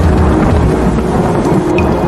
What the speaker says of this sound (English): The rain falls and kisses the earth.